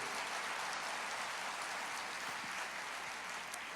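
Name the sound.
congregation applauding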